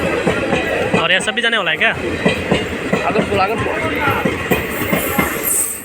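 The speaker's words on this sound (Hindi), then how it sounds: "सो गाइस फाइनली ट्रेन आ चुका है, देख सकते हैं" A train pulls into a station, its rolling rumble and wheel clatter filling the scene while people talk nearby throughout.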